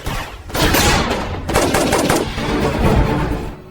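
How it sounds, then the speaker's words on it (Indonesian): Sustained exchange of automatic gunfire in a Riddick film, loud and close, with rapid bursts running almost continuously through a short break and into a second long volley. "Keduanya pun kini saling tembak."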